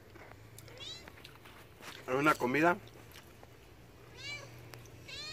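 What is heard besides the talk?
cat meowing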